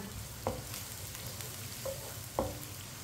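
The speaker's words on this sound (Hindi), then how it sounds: "प्याज को हल्का सा ब्राउन कर लेंगे। प्याज को ज्यादा फुल ब्राउन नहीं करना, हाफ ब्राउन करना है।" Onions frying in a pan toward half-brown for masala bhindi, a soft, quiet sizzle with three sharp spatula taps spaced through it.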